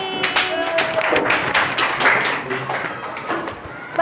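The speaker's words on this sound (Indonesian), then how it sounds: "Beri tepuk tangan untuk Fahri." A classroom of schoolchildren applauding a student, a steady patter of many small hands clapping at moderate loudness, with a voice briefly audible over it.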